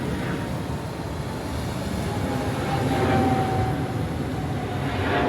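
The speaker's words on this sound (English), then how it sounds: "You can hear the Metro Mover coming around right now." Miami Metromover people-mover train running through downtown, a loud continuous rumble and whir that swells toward the middle as it passes near, with a thin high squeal of wheels on the track.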